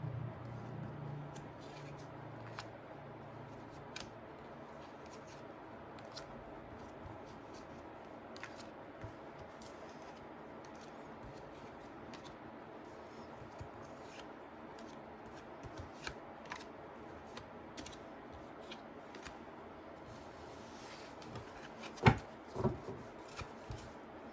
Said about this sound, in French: je vais positionner d'autres cartes